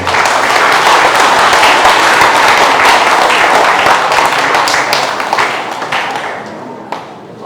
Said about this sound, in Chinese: 请大家拍手